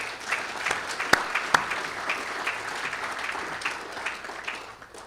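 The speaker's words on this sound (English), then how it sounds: "Give him a clap, please." Shareholders at a mining company's annual general meeting clap steadily for several seconds, a dense roomful of applause with a few sharper claps standing out.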